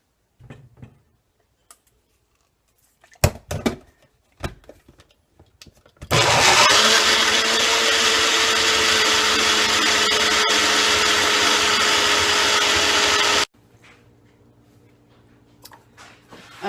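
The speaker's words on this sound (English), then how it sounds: "put it in my little personal blender." A small blender whirs loudly and steadily for about seven seconds, preceded and followed by light clicks and handling knocks.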